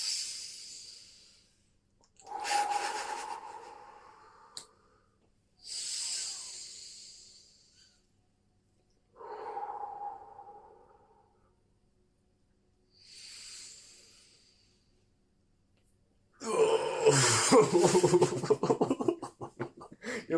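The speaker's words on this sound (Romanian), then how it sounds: "sincronizează respirația sau mori" Several slow, breathy inhales and exhales from a group breathing together in rhythm, each a separate hissing puff with pauses between, ending in a louder, rougher burst of air.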